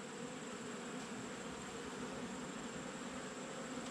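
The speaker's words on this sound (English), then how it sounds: "Try not to piss off this wasp nest right there." Wasps buzz steadily at a nest beside a beehive, a dense, continuous droning swarm that holds close and even throughout, with no voices.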